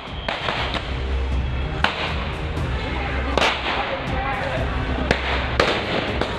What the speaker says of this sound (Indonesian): Tembakan peringatan dilepas petugas gabungan saat membubarkan tawuran antar ormas di Larangan, Tangerang, Banten, Kamis pagi